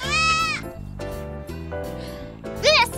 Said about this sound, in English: This is a goat. A goat says,